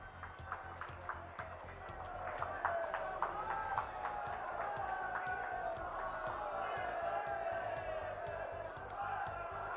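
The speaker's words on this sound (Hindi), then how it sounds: "आप सभी जोरदार तालियों के माध्यम से माननीय प्रधानमंत्री जी का स्वागत अभिनंदन करें।" A large crowd applauds and cheers to welcome the Prime Minister at a public event, with sustained clapping and scattered whoops holding steady throughout at a moderate distance.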